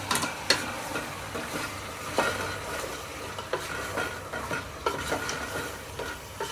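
A spoon stirs goat head curry with turmeric, salt, mint and coriander stems in a pan, giving soft scraping strokes over a faint sizzle with no talking.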